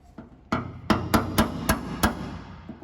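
Six sharp metallic hammer strikes on a punch ring out at a steady, deliberate pace, close and loud, after a couple of lighter taps, while building an aircraft vertical stabilizer.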